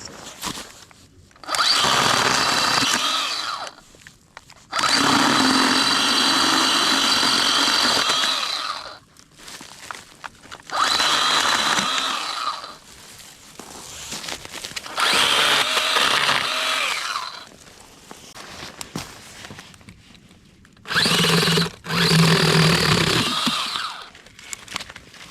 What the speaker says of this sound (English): This is what it's basically made for. Cutting small sticks.